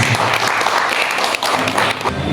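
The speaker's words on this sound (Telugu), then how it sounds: "ఒక్కసారి క్లాప్స్ ప్లీజ్." An audience at a felicitation event breaks into sustained applause, dense and loud clapping filling the hall for a couple of seconds with a faint voice underneath.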